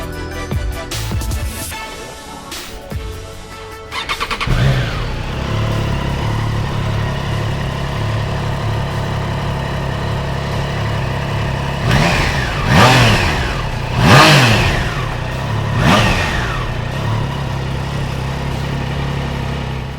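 A 2021 Triumph Trident 660 motorcycle engine runs steadily, then gives several sharp, loud throttle blips in quick succession, each rising and falling near the microphone.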